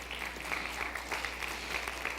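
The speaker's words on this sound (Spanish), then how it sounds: "Un aplauso a mi bendito Padre." A church congregation claps for the pastor, a moderate, fairly distant round of applause with scattered individual claps standing out over a steady low hum.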